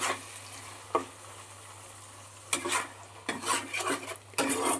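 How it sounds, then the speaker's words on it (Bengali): Potatoes and eggplant are turned in a frying pan over a low sizzle, with several distinct bursts of utensil scraping and clatter against the pan, the last few coming in quick succession. "এবার আমি একটু নাড়াচাড়া করে নেব আলু আর বেগুনের সাথে"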